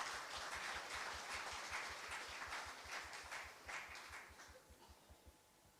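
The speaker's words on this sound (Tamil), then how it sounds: "அவருக்கு எமது அனந்த கோடி கரகோஷங்கள்" An audience applauds at a devotional stage event, and the sustained, dense clapping rises close and loud before it gradually thins and fades out toward the end.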